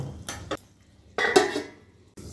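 A metal lid is set onto a cooking pot, giving a couple of short clanks and a brief scraping rattle, close and with no one talking.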